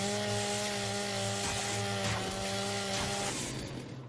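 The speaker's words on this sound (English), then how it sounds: "Chainsaw time." A chainsaw revs steadily in the Gears 5 video game as it cuts through a large obstacle, a loud continuous buzzing drone that stops near the end.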